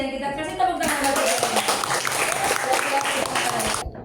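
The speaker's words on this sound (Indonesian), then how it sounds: "Terima kasih dan kita kasih tepuk tangan lagi." A classroom group applauds in a dense burst of clapping, with a voice speaking over the start before the hands take over and run for a few seconds, then stop abruptly.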